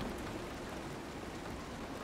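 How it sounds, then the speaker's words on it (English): Steady, even rain in the video game Road 96 falls close and loud for the whole stretch, a dense continuous patter with no voices over it. "That's why I'm out here in the rain and not in my cab."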